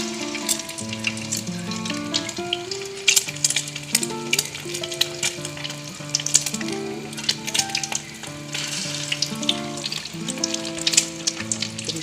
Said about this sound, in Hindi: हल्की आंच पे इनको फ्राई करेंगे।